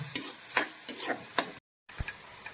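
Chopped pineapple cooking in a pan for a sweet curry, giving soft, irregular sizzling and stirring scrapes, with a few sharp clicks and a brief gap of silence.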